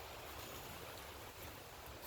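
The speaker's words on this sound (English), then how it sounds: "I hear water over there" A creek runs behind a hill in the outdoors, its water flowing as a steady, soft, far-off rush with no break and no voices.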